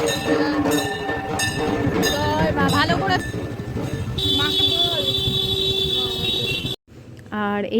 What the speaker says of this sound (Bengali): দেখো আমরা সকলে মিলে মেট্রো স্টেশনে চলে এসেছি